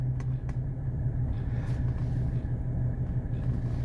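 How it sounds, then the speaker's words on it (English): A 1981 Mercedes 300SD diesel engine idling at operating temperature, a steady low rumble with a regular throbbing pulse, heard close and continuous without talk. "So we're up to temp. We're at idle."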